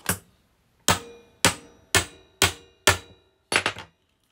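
A hammer beats on a shop tool in six sharp, loud, close blows spaced about half a second apart, the last a quick double strike, each ringing briefly before it fades.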